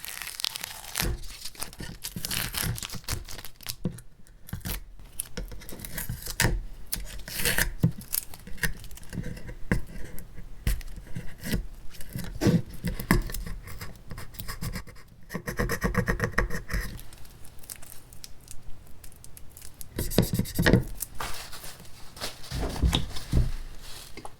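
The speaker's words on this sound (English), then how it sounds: "I think that's about all I can do with the tape on there. So we're going to remove that." Tape is peeled and torn away from a forged carbon fiber mold used for casting gold dragons, producing continuous close crinkling, ripping and rubbing noises with brief quieter pauses.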